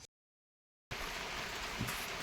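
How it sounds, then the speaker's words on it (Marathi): Monsoon rain falls on a small farm, starting after a brief silence as a dense, even hiss of drops that continues steadily at moderate level with no one talking. "त्याप्रमाणे पाऊस चालू आहे."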